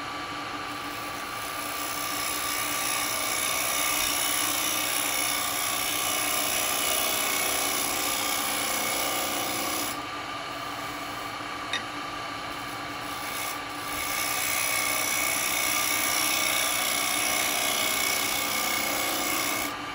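A steady roaring whir of a lathe with a carbide chisel cutting a spalted beech bowl, continuous and fairly loud, dipping briefly in the middle before resuming.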